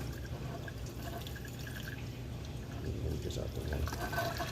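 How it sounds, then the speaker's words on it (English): Coffee pours steadily into a small saucepan with a soft trickling splash, close by, over a low background hum. "Pour it back into my little saucepan"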